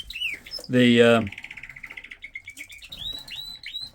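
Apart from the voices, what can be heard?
birds chirping in a winter birdroom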